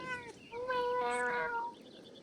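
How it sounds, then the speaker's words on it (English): A cat in the video game Pentiment makes a drawn-out, tonal meowing call, followed by a quieter second call. The sound is clear and fairly close, with no speech over it. "He's purring."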